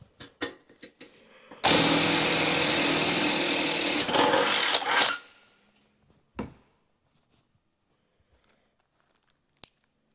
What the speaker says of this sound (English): So drill the holes a bit bigger.